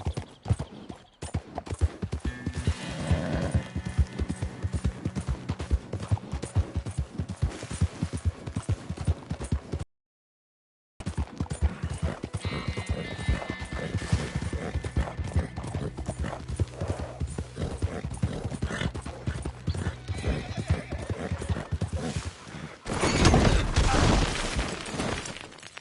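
Horse hooves clip-clopping at a steady gallop in Red Dead Redemption 2, loud and continuous, broken by a short silent gap, with a neigh and a harsher burst near the end.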